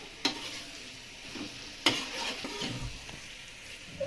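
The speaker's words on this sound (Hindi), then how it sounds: "मैं लौकी को इस तरीके से सारे मसालों में अच्छे से मिक्स कर देती हूँ" Bottle gourd pieces being stirred into spices in a frying pan with a spoon, two sharp scrapes against the metal standing out over a soft, steady sizzle.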